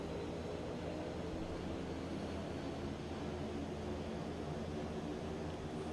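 Quest Kodiak single-engine turboprop sitting at low idle while taxiing in the X-Plane 11 flight simulator, a steady, even engine drone with a broad rumbling hum that holds unchanged throughout.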